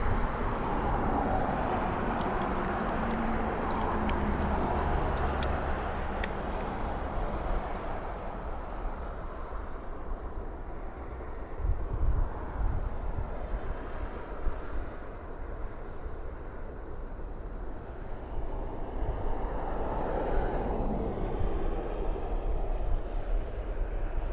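An MD-11 airliner at Toronto's airport rumbles steadily as a broad, continuous roar heard from an outdoor spotting position, with a constant hiss throughout and no voices.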